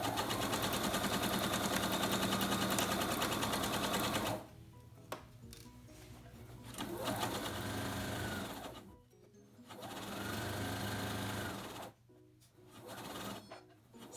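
A sewing machine stitches a half-inch seam on a no-zipper envelope pillow, first in one long continuous run of fast mechanical whirring, then in shorter bursts separated by pauses. The machine is close and steady, with no voices.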